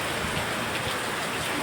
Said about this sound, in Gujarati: સારામાં સારો વરસાદ ચાલુ છે